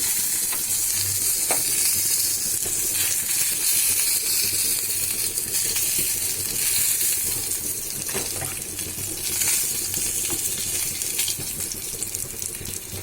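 Rui fish frying in a pan, a steady bright sizzle of hot oil running throughout with occasional soft scrapes and clinks as pieces are turned, close and continuous with no voices.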